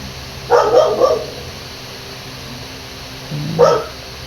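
Day-old puppies give two short bursts of high, whimpering cries separated by a quiet pause, close to the listener.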